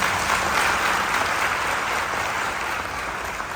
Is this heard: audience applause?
yes